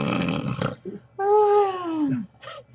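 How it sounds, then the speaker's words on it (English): Comic snoring from the classic radio comedy The Bickersons: a loud, exaggerated vocal snore with a rattling inhale, then a long, gliding whistle-like exhale, close up and alone. "The Bickerson snores."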